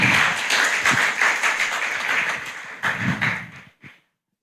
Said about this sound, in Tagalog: the best na palakpak sa Panginoon